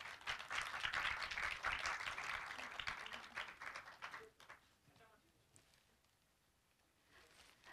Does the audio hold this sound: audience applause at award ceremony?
yes